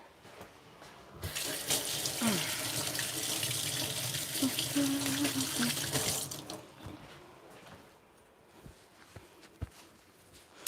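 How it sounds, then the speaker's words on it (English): A kitchen sink tap runs full and loud while hands are rinsed beneath it for about five seconds, then shuts off, leaving a few faint drips and small clinks. "let me go rinse."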